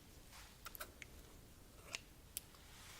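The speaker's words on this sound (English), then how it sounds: "So, of course, I have my scissors." Scissors for an ASMR haircut make faint, crisp snips and metallic clicks at close range, several scattered through an otherwise quiet moment.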